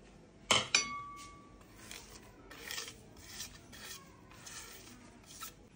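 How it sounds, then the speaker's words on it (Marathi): Roasted peanuts and chutney ingredients for gavran thecha ground by hand on a stone slab: a couple of sharp clinks, then quiet, rhythmic rasping strokes, close but soft. "आता सगळं एकत्र करून वाटून घेते"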